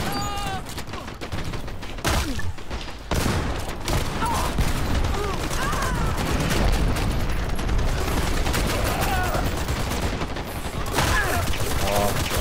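An automated turret in the shooter game Dirty Bomb fires rapid, sustained bursts, mixed with other gunfire and booms that continue almost nonstop, loud and close, with voices talking over the barrage.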